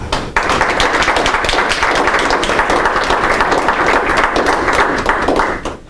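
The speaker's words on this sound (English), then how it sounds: "Round of applause." A room audience applauds after a presentation, a dense, steady burst of many hands clapping close by that holds for about six seconds before thinning at the end.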